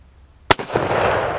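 A single close, loud gunshot fired at a steel target and an old heater, with a short sharp crack and a ringing metallic impact trailing into a noisy, rumbling background.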